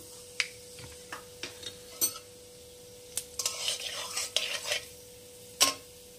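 Panch phoron spices hit hot oil with a faint sizzle and scattered sharp pops and clinks of a spoon against the pan, close and fairly quiet.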